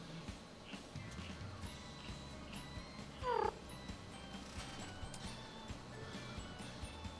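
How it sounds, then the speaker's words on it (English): A spirit cat in the Nikke x ReZero collaboration gives a single short meow over steady, low background music and ambience. "This cat is called Puck."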